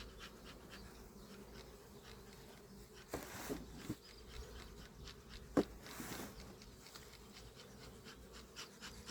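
A honeybee colony in a five-frame nucleus hive, partitioned down to four frames, gives a steady low buzzing hum throughout. A few brief louder rustles and one sharp click stand out near the middle.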